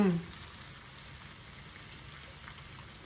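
Chicken pieces frying in a pan with masala and coriander powder, a steady soft crackling hiss holding at an even level throughout after a brief louder start.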